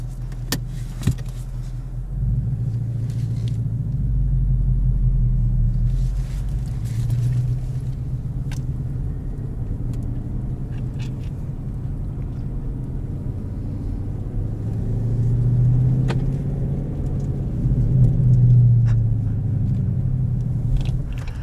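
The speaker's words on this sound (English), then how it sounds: "I'll go ahead and cut to the drive of these two cars" A 2019 Ford Mustang GT with a manual gearbox drives along, its engine giving a steady, loud low rumble that swells and eases with the throttle, close up and with no talking.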